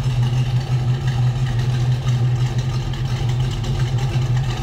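A 1968 Pontiac Firebird convertible with a 350 V8, automatic transmission, headers and dual exhaust idles steadily, giving a loud, close, low rumbling drone that holds even throughout with no voices.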